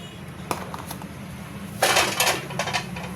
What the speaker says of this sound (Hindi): इन सारी चीज़ों को मिक्स कर लेते हैं।